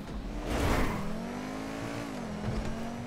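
A car in GTA V Online during a stunt race accelerates, its engine droning with a rising and falling pitch and a brief whoosh near the start, steady and fairly close without talking.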